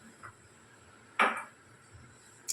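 A lid drops onto a cooking pot of simmering papaya chutney, one sharp metallic clank in a quiet kitchen, followed by a faint tap near the end.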